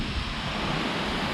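Boyka waterfall in Crimea, a steady broadband roar of rushing, falling water, loud and close, constant across the whole moment with no voices.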